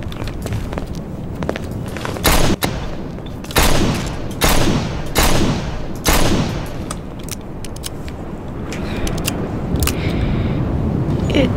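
Gunfire in the Garry's Mod video game, with several loud, sharp shots in irregular bursts over scuffling footsteps and other game noise.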